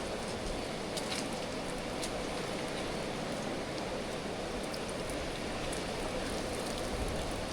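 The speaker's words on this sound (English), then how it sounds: "It's raining" Steady rain falling outdoors during a fishing trip in remote Australia, an even broadband hiss that persists unbroken and fairly loud throughout, with no talk.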